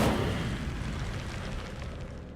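Incendio fire spell cast in Hogwarts Legacy, a sudden whooshing burst of flame that starts loud and rumbling, then fades into a crackling roar over a couple of seconds.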